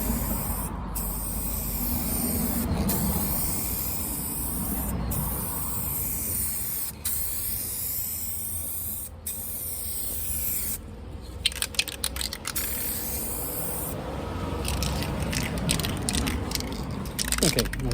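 A spray gun lays down a third coat during rust repair on the boot of a Mercedes SLK R170. The hiss is close and continuous, broken by a few brief pauses.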